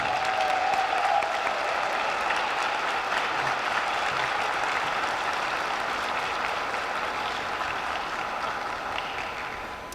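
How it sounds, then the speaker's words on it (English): An audience at a senior awards ceremony claps steadily for a former middle school student receiving an award. The dense, even applause carries on for about ten seconds and fades slightly at the end. "Let's give him a round of applause."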